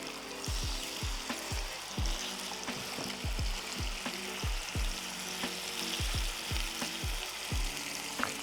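Scallops sear in a hot pan over medium-high heat with a continuous dense sizzle, while low periodic thumps repeat steadily underneath, close and even throughout.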